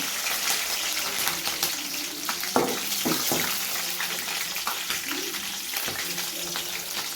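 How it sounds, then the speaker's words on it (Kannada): Green chillies frying in a few tablespoons of hot oil for a goat blood fry, a steady broadband sizzle running throughout with faint clinks and background noise. "ಒಂದು 3-4 ಟೇಬಲ್ ಸ್ಪೂನ್ ಎಣ್ಣೆ ಇರಲಿ. ಮೆಣಸಿನ್ಕಾಯಿ ಹಾಕೊಳ್ದ"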